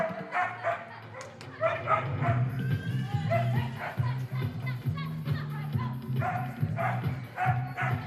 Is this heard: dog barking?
yes